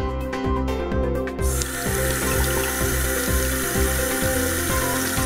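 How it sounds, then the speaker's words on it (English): Water runs steadily into a sink or container beneath a repeating mechanical rhythm, like a small pump or motor cycling over and over, from a homemade automated water dispenser. "This week, He He and Ping Ping found a few spare parts and made this automated water dispenser"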